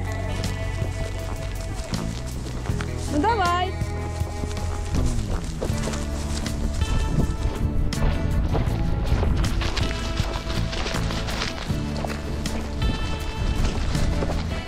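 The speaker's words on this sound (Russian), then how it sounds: "И тут ливень." Dense, steady patter of heavy rain drumming on a surface in an open field during a horseback ride, with a brief spoken phrase and scattered clatter on top.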